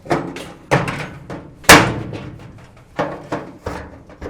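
Metal drawer slides being pushed in and dropped into place on a mobile tool cart, making a series of sharp, close metallic thunks and knocks that come at irregular intervals. The loudest knock lands near the middle.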